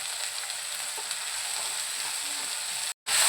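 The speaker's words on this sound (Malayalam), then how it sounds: "എല്ലാ ഭാഗവും ഒന്ന് നന്നായിട്ട് ഒന്ന് ഇളക്കി കൊടുക്കുക" Okra and egg thoran frying in a pan gives off a steady, close sizzle with faint scraping from stirring, the crackle briefly cutting out near the end.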